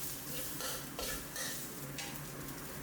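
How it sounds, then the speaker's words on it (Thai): Thai curry paste and chilli shrimp paste stir-fried over low heat for spicy pork ribs, a soft steady sizzle with gentle rhythmic scraping strokes of the spatula, fairly quiet and close. "ผัดไปเรื่อยๆนะครับ จนพริกแกงแล้วก็พริกกะปิมีกลิ่นหอมนะครับ"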